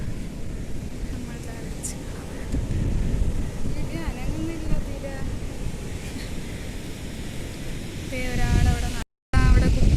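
Strong wind sweeps across Kappil beach, a steady blustery roar buffeting the microphone for the whole stretch, with a brief gap near the end.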